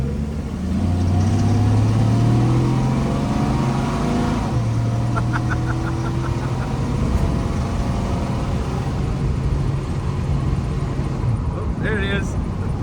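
A long-abandoned AMC Rebel with a one-barrel six-cylinder engine runs loud and close, its low drone rising as it revs and pulls, with a person talking over it.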